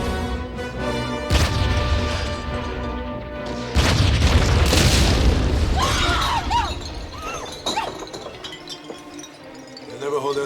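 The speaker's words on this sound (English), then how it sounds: "They'll never hold out against artillery." Artillery fire in a war drama set during combat, with heavy booming blasts and crashing impacts layered over shouting voices and dense battle noise, loud and continuous through the scene.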